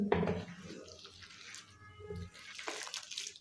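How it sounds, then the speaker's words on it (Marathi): Water trickles and splashes into besan and onion batter for round street-style bhaji, with a few louder pours at the start and end and soft dripping in between, close and without speech. "थोडं थोडं पाणी घालून गोल भजीसाठीचं पीठ मळून घ्यायचं आहे"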